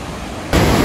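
Steady broadband roar of the 220-metre Salto San Martín waterfall at Iguazú Falls, Argentina, growing abruptly louder and fuller halfway through as if the spray draws nearer; no voices.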